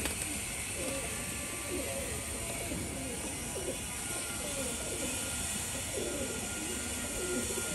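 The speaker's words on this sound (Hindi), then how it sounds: "पूरा दिनों का कबूतर है दोस्तों" Pigeons in a rooftop flock coo softly and steadily in overlapping low phrases, with faint mechanical clicking and background chatter mixed in.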